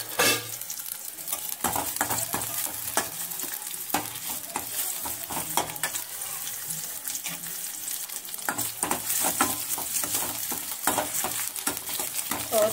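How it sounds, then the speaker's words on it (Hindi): Onions lightly frying in a kadai for kadhi, with a continuous close sizzle and steady scraping and stirring strokes of a spoon against the pan throughout, no talking. "और प्याज को ना मैं ज्यादा फ्राई नहीं करूंगी, ऐसे हल्का ही करूंगी, हल्का हल्का फ्राई हो चुका है ये।"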